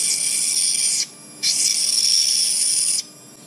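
A slow-speed Dremel with a quick-fit bit cutting hard cobalt chrome metal during fine metal casting work, two bursts of high grinding whine split by a short pause, close and loud with no talk.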